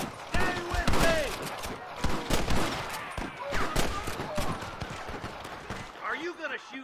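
Gunfire in a shootout with rustlers in the video game Red Dead Redemption, rapid overlapping shots and cracks in dense bursts, with voices talking over much of it.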